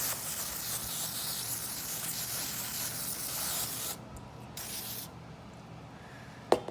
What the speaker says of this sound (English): Go ahead and get this hose down with lubricant before we get started.